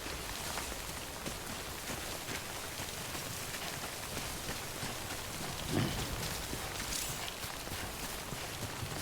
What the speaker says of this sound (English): It's not normal rain, it's called time fall